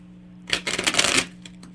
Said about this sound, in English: I'll shuffle for you here